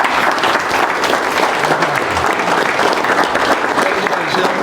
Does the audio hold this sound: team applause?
yes